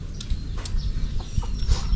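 Chickens clucking while being fed, several birds giving short irregular clucks and squawks close by over a steady background.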